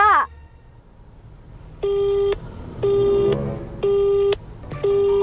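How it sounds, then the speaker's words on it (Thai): A telephone busy signal sounds in four evenly spaced beeps after a brief opening noise, each about half a second long with equal gaps, clear and close. "นั่นไง สายไม่ว่างแล้ว"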